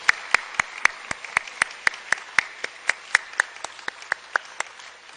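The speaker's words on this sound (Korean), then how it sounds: "큰 박수로 하나님께 영광 올려드리겠습니다." A steady, evenly spaced run of about twenty sharp hand claps in a quick rhythm at a middle school department teachers' dedication service in an army headquarters church, fairly close and clear with no voices over it.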